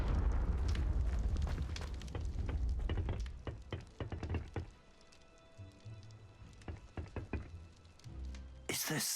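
Repeated Confringo fire-spell blasts from Hogwarts Legacy go off as a string of sharp bursts and thumps. Some are close and some quieter, and a sudden loud crack comes at the end.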